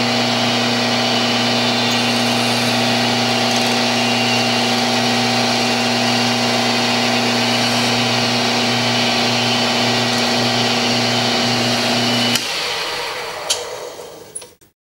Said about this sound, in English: so we're going to turn it down on the lathe.